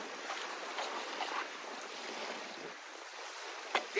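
Gold concentrate from a beach sluice being rinsed out in a 5-gallon pail of water gives a steady close swishing, sloshing wash with no talk, ending in a couple of small knocks.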